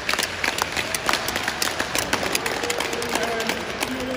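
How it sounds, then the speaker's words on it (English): A group gathered at a greenhouse workplace applauds, a brisk, dense spatter of many hands clapping together at moderate loudness, steady throughout with faint voices underneath. "Why don't we give everyone an applause for that?"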